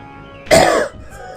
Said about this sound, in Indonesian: Maaf, batuk saya.